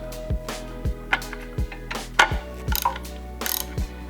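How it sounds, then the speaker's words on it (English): Ratchet tightening bolts during rear main seal repair on a Chevy LS engine, with a close, regular series of crisp clicks over a constant low hum. "we can go about the process of tightening everything down"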